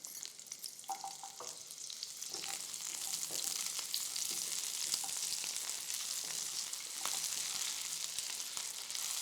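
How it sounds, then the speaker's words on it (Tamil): Small shallots frying in hot oil left in the pan, a steady loud crackling sizzle with occasional stirring scrapes, no voices. "இப்போ அதே ஆயிலே நம்ம எடுத்து வச்சுருக்க சின்ன வெங்காயத்தை சேர்த்துக்கலாம்."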